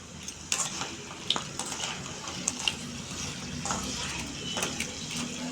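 Crab sautéing in oil in a pan for a spicy curry, a steady close hiss broken by scattered sharp clinks and scrapes of a spoon against the vessel.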